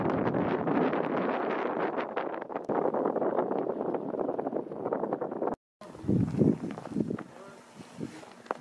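Strong wind on a mountain ridge of Mont Ventoux, around minus 10 degrees, buffets the microphone in loud, continuous gusts, with a brief dropout before the roar returns, rougher and more broken.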